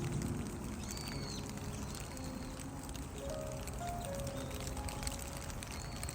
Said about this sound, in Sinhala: මේ වහින සද්දේ මේ මල්වල ලස්සනයි.